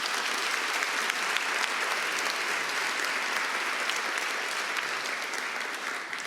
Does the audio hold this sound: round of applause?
yes